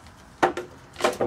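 Blade or scissors cutting around a plastic pot made from a gallon plastic bottle, giving two short crisp bursts of cutting noise, each a pair of snips, close and fairly loud in a quiet room.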